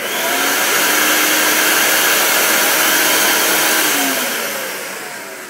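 A Powr Flite PF51 vacuum runs with a loud, steady roar and rushing airflow, close by and alone, easing slightly in level toward the end.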